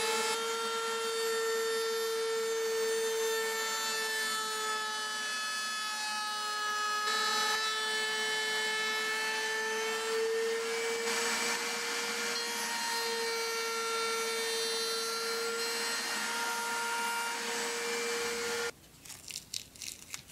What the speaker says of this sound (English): I have my router table set up with my bearing guided bit, and I have the template double face taped to the back, so I'll trim this out